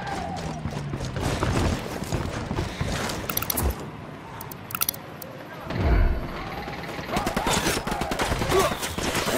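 Gunfire in Ghost Recon Wildlands: bursts of automatic fire and single shots crackle close and loud, with a lull and a low rumble midway before the shooting resumes, under occasional voices.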